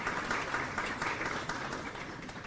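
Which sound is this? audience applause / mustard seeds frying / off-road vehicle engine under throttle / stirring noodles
audience applause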